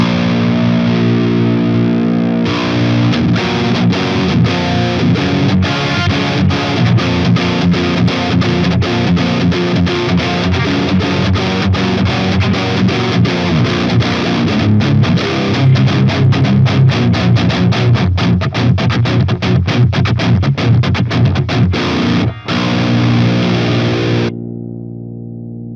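Electric guitar through a heavily overdriven Line 6 Helix overdrive pedal model, playing a steady rhythmic riff, loud and continuous, ending abruptly near the close.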